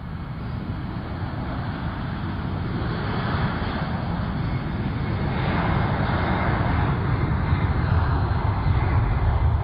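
A jet aircraft's engines spool up for takeoff at a Kansas airport, a loud, steady roar that builds gradually and continuously with no talk over it.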